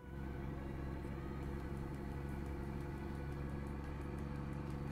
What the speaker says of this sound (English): I love how this truck sounds low.